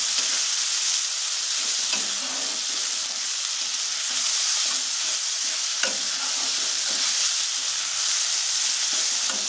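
Onions frying with salt in a pan give off a steady, close sizzle with soft stirring scrapes throughout, and no voices.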